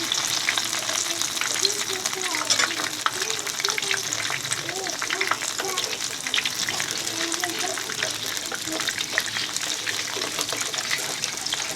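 Cabbage pakoras deep frying in hot oil, a steady broadband sizzle with bubbling that runs throughout at close range, with faint speech-like sounds at times.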